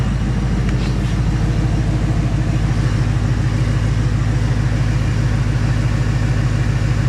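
A 2017 Mustang GT with a 160-degree Mishimoto thermostat runs steadily while warming up, a loud, continuous low engine drone with a regular pulsing throb and no pauses.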